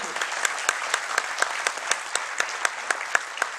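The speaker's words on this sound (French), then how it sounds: "Vous avez raison, on peut l'applaudir." Audience applause at a political congress, a steady wash of clapping with distinct, regularly spaced loud claps standing out close by, brief and without speech.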